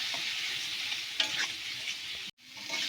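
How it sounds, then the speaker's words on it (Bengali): Spice paste with turmeric and a splash of water sautéing in a pan, a steady close sizzle with stirring scrapes, briefly cut to near silence before the frying hiss returns. "মশলায় অল্প একটু জল দেব, খুব বেশি না, দিয়ে মশলাটা একটু কষিয়ে নেব"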